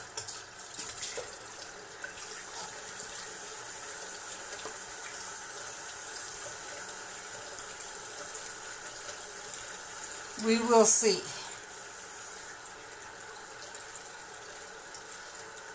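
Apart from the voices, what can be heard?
water running from a tap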